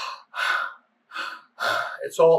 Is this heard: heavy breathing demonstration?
yes